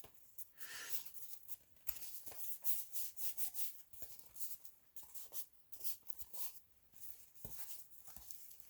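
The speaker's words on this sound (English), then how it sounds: "So take it that way and burnish it." Paper is burnished by hand for a vintage junk journal cover, giving faint, rhythmic rubbing strokes that repeat in short bursts with small pauses between them.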